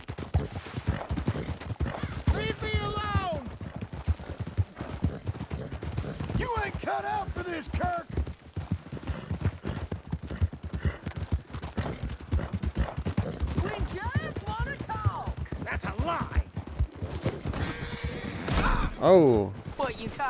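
Horse hooves galloping in the Western video game Red Dead Redemption 2 during a chase, a steady rapid clip-clop running throughout beneath frequent excited talk, with occasional gunshots and whinnies mixed in.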